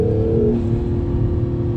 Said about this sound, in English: You have wastegate noises, you have turbo spooling up, you've got this just intoxicating induction noise going from the engine